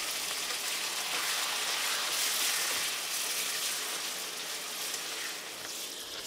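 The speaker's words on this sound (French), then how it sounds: "Faites-les frire pendant 5 minutes en mélangeant tout le long" Peppers and tomatoes sizzle and crackle steadily in hot oil, a dense hiss that holds constant for several seconds. It is close and clear, and no one speaks.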